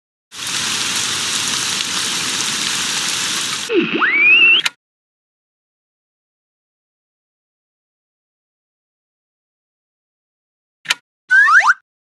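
Heavy rain in the video game Sammy's Science House: a dense steady hiss of rainfall for a few seconds, ending in a short springy boing effect, then silence and a couple of brief electronic chirps.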